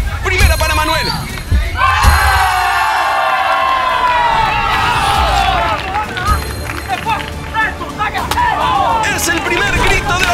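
A loud crowd cheers and shouts at an Exatlón Estados Unidos All Stars competition, erupting after a contestant lands a ball on the central target, with sustained roaring and excited voices throughout.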